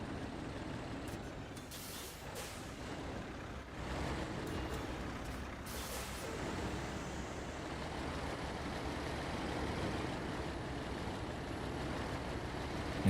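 A heavy TerraPro truck hauling logs strains up a steep grade in a driving game, its engine a steady loud rumble with hissing air-brake bursts through the first half.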